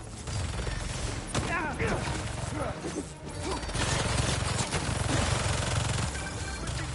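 Sustained gunfire bursts from turrets in the Spider-Man 2 video game, a dense continuous barrage with crashes and mechanical clatter, loud throughout with game sound layered over it.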